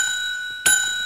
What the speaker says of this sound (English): You see how he's got that bell right there on the top of his head?